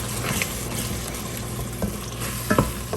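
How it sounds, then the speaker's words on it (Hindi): Masala gravy for kebab curry sizzles and bubbles in a pan after water is added, with steady close frying and a few stirring scrapes. "चलिए, ये अब थोड़ा सा मसाला हमारा भुनता है।"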